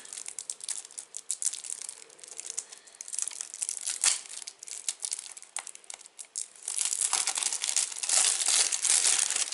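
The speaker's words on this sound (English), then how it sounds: "let's just open the legend cards" Legends of Andor board game legend cards unwrapped from their plastic, a close, steady crinkling and tearing of film that swells louder toward the end, with no talking.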